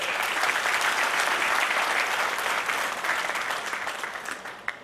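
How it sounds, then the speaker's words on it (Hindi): A crowd at a district cabinet installation ceremony breaks into dense, continuous applause that holds steady and tapers slightly near the end. "तालियां बजाएं"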